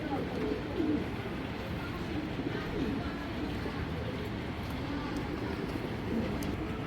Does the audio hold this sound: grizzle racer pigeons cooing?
yes